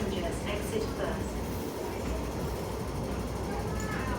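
A metro train pulls into Lei Tung station as a steady, dense rumble with rail roar and hiss, continuous and close, while a voice talks over it.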